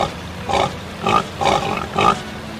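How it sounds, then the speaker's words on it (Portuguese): Pigs grunting in a farm corridor, four separate grunts spaced about half a second apart, close and fairly loud over a low background hum. "Fecha a porteira que os porcos estão aqui no corredor."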